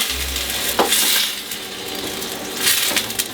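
A frying pan holding lightly browned mirepoix is deglazed with stock for braised lamb shanks, giving a loud, steady sizzle with a few sharp scraping stirs and clatters partway through.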